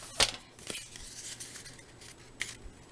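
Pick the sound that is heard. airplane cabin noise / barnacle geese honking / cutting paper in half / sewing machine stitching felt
cutting paper in half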